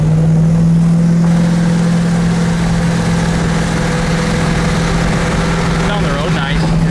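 A 1971 Monte Carlo cruising down the road gives off a steady, loud low engine drone with a constant deep hum and road rumble, holding even throughout with a slight rise near the end.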